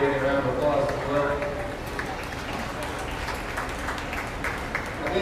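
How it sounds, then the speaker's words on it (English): Audience applause rises for class winners at a crossbred steer beef cattle show, a broad clapping wash in a large arena with an announcer's voice over it and faint hoof clatter beneath. "Give a round of applause as well"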